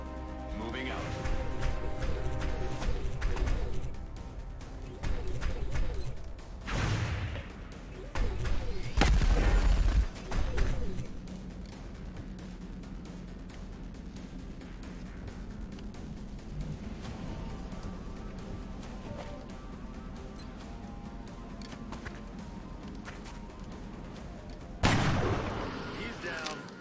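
Gunfire and heavy explosions erupt in a tactical battle in the video game XCOM Long War, several loud bursts and booms at intervals over a rumbling background, with voices speaking throughout.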